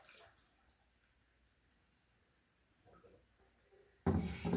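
Water mixed with bentonite is poured into fresh grape juice for winemaking. After a quiet room with faint small knocks, a sudden loud splashing gush starts near the end and continues to the close.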